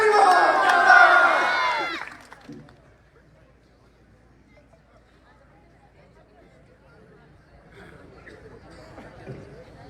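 At an election rally in a village, a crowd bursts into loud applause and cheering for a party candidate, lasting about two seconds before dropping to quiet murmuring and faint chatter.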